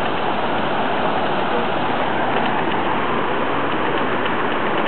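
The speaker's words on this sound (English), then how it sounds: "More waterfall." Waterfall in the Smoky Mountains of Tennessee, a dense, steady rush of falling water that stays constant and fairly loud for several seconds, heard alone without talking.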